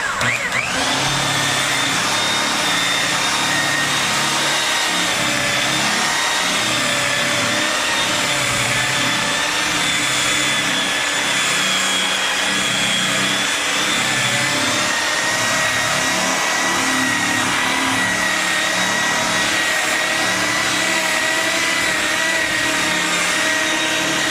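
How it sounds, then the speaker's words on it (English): A car polishing buffer whines continuously while cutting and buffing paint, a loud steady motor drone with slowly shifting pitch as the pad moves across the panel, running without pause. "Keep the buffer moving, guys, because if you stay in one place, you're gonna burn it."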